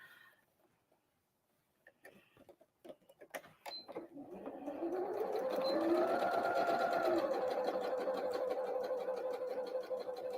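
A sewing machine stitches a Christmas tree napkin: a few clicks and taps, then a steady rapid whirring run that grows louder and holds, close up with no talk.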